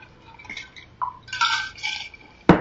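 Water poured into a glass in a home kitchen, a few short splashing bursts with a clink, ending in a sharp knock, close and fairly loud.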